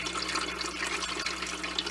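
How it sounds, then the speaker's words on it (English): Continuous trickling and splashing water as an Aerogarden Bounty Basic indoor garden pumps water up to its plant pods, close and steady with a faint low hum underneath. "It's bringing the water up and depositing it to the pods."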